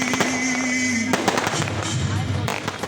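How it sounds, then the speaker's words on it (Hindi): Nighttime fireworks display in Khairpur, a continuous barrage of crackling pops and bangs with a steady roar underneath, plus a background voice. "खैरपुर में रात गए आतिशबाजी का मुजाहरा हुआ।"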